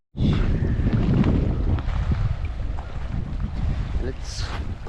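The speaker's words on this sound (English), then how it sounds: "It's cold and windy" Cold wind blows outdoors on a seaweedy shore at St Andrews. Loud, continuous low rumbling buffets the microphone from the start, and brief, faint voice-like sounds appear under the rumble.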